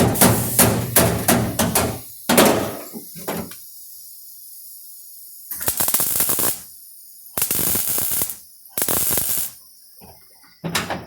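Quick rhythmic hammer blows ring out on a metal floor pan patch panel during tack welding, then after a pause come longer scraping, grinding bursts of metalwork.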